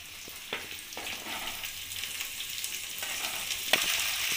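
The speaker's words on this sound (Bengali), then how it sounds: "এবার আমি ক্যাপসিকাম কুচি, টমেটো কুচি আর কাঁচা লঙ্কা যে কুচি করে রেখে দিয়েছি সেটা আমি কড়াইতে দিয়ে দেবো" Chopped capsicum, tomato and green chili fry in a wok for a chili egg dish, a continuous close hissing sizzle with occasional light scraping ticks and no speech.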